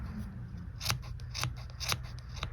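Scissors snipping through yarn pom-pom up close, four or five distinct crisp cuts at a steady pace, with no talking.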